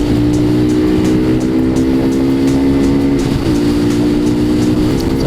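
A Lifan KP Mini motorcycle cruises on a freeway, its engine holding a steady loud drone with a small shift in pitch midway, over constant wind rush.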